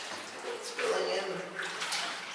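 Water seeps and trickles into a flooded iron mine shaft, a steady wet rushing that swells in the middle, with people talking close by.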